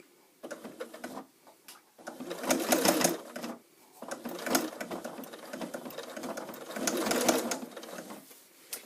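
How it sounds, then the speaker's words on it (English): A sewing machine stitches the side seam of a bag through thick layers of binding, running in several steady mechanical bursts with short pauses between them, close and clear with no talking. "Now when you get to this seam, I want you to stitch very slowly."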